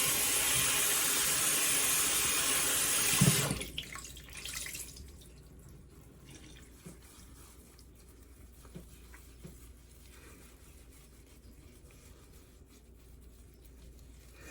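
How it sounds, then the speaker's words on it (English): Water from a tap rushes loudly for about three seconds as a rag is rinsed, then cuts off, leaving faint drips and quiet handling noises. "And then I'll rinse the rag off."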